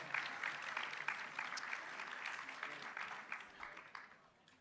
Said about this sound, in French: on peut les applaudir en attendant qu'ils nous rejoignent